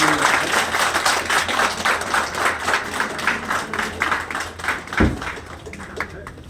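Guests applaud at a retirement ceremony, a steady run of mixed hand claps with rhythmic pulses lasting throughout, fairly loud and close, with a sharp thump near the end.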